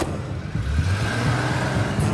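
A car's engine rumbles and revs as it is driven off, a loud, continuous, close low drone with no one speaking.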